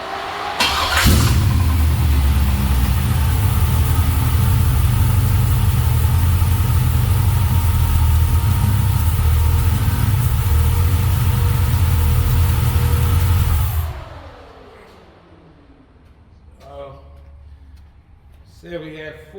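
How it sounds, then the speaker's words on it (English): An LS V8 swapped into a 1978 Chevy Malibu with a carburetor cranks and fires, then settles into a loud, steady, rumbling idle before being shut off. Voices follow in the quieter tail. "So we'll start it up, let it build oil pressure"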